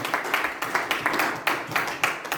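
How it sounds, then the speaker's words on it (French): A church congregation claps in praise in a strong, regular rhythm, roughly three sharp beats per second, loud and close, with a faint murmur of voices underneath. "Acclamez pour le Seigneur."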